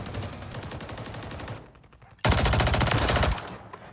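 Submachine gun fire in a first-person shooter on a high-rise map, two sustained rapid bursts, loud and close, the first trailing off before a sharp louder burst kicks in.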